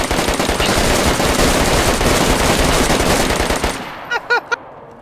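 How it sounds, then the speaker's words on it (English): Sustained automatic gunfire in the DayZ survival game during a base raid event, a dense loud rattling burst lasting several seconds, then stopping abruptly, with a few short clipped noises after. "someone shot me"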